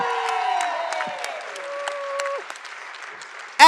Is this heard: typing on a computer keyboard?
no